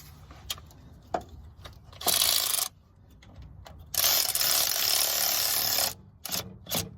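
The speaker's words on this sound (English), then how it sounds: "we're gonna put on our 14mm socket. And snug down that positive cable" A ratchet with a 14mm socket snugging down the positive starter cable on a 1998 GMC Sierra 1500, with sharp clicks, short metallic taps and two longer bursts of fast ratcheting, close and clear.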